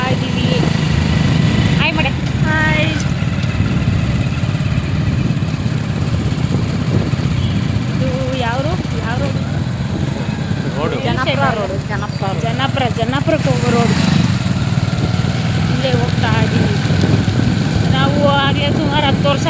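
A motorcycle engine drones steadily throughout while riding, with people talking over the constant rumble.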